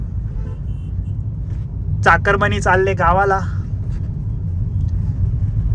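Dense road traffic at Bhumkar Chowk on the Pune-Bangalore highway, a steady low rumble of cars and engines throughout, with a brief horn toot and a person speaking over it midway.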